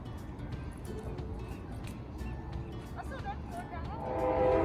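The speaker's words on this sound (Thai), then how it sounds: "รถไฟกำลังมาครั" A train rumbles faintly in the distance and draws closer, its horn sounding toward the end, while voices murmur in the background.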